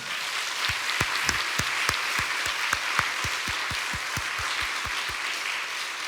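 A church congregation applauding during a Friday worship service, sparse rhythmic claps from many hands, moderately distant and steady, with a light wash of room noise and no talk.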